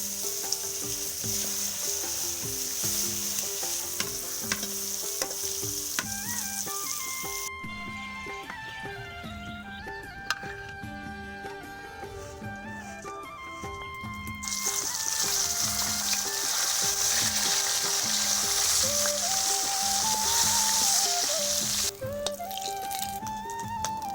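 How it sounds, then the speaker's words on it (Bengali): Eggplant coated in salt and chili sizzles and crackles steadily in hot oil close by, with tonal music playing underneath and the frying growing louder partway through. "বেগুনে লবণ ঝাল মাখিয়ে রেখে দিয়েছি। তো ভেজে নেবো এটা।"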